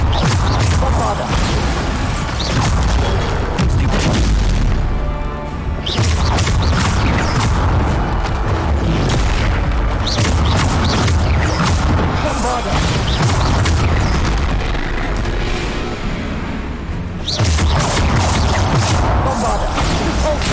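Bombarda spell explosions burst in Hogwarts Legacy, a dense stream of booming magical blasts and impacts over continuous loud game effects and music, with no quiet gaps.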